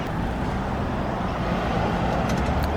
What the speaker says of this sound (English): Black car, way too fast.